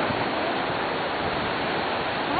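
Continuous rushing water noise of waves at a beach, broad and even like surf, with no pauses or voices.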